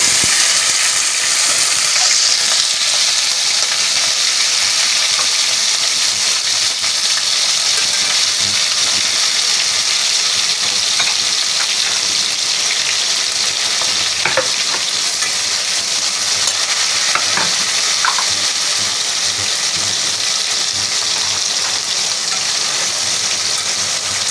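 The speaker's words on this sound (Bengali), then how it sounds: "আমি কড়াই চাপাই দিছি জিরা দিলাম এখানে কেটে রাখা পেঁয়াজ দিয়েছি কাঁচা" Chopped raw onions and cumin seeds fry in a wok with a loud, continuous sizzle and crackle, punctuated by a few stirring scrapes, close up with no talk.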